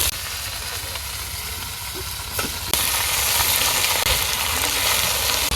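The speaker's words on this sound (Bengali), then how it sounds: "এখন আমি শাক দিয়ে দিলাম" Greens drop into hot oil with browned onion, garlic and green chilli, bursting into a loud, dense sizzle that swells louder midway and keeps crackling close up.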